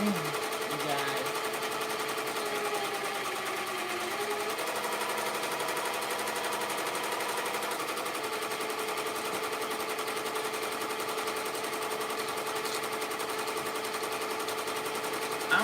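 A sewing machine runs steadily off a partly used bobbin while orders are worked on, a continuous moderate mechanical whir with faint rhythmic ticking that carries on evenly with no talking.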